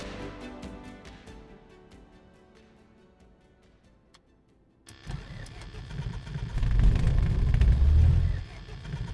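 A Cessna 152 engine in Microsoft Flight Simulator cranks with clicking ticks, falls quiet briefly, then catches and rises into a loud, rumbling idle that holds steady before easing.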